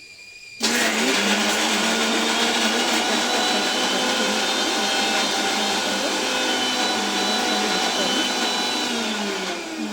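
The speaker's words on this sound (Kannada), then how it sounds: "ಮಿಕ್ಸಿ ಜಾರ್ಗೆ ಹಾಕ್ಕೊಂಡು ಮಿಕ್ಸಿ ಆನ್ ಮಾಡ್ಕೊಳ್ಳಿ" A kitchen mixer grinder whirs loudly as it grinds chutney ingredients with green chillies in its jar, switching on abruptly and holding a steady high-pitched motor roar throughout.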